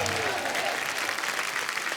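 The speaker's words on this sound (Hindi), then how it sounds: "एक बार जोरदार तालियां अजय सर के लिए" Studio audience on The Kapil Sharma Show applauding loudly to welcome actor Ajay Devgn, a brief, dense, even roar of clapping.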